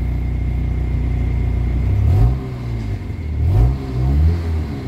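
A Kia Pride engine treated with XADO, suffering from white smoke and low power, idles with a steady rumble, then revs twice in quick rising-and-falling bursts, loud and close, with no talking.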